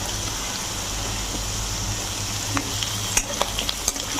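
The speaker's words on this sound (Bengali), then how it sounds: "আলু আর গাজরটা একসঙ্গে ভালো করে পেঁয়াজের সঙ্গে ভেজে নেব।" Potatoes and carrots fry with onions in a hot pan, a continuous loud sizzle with a few scraping stirs near the end.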